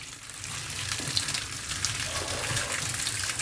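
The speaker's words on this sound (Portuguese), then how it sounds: "pode jogar água sem medo" Water poured and sprayed to rinse foam off a flood-damaged computer motherboard, a steady hissing splash of running water that continues throughout at close range.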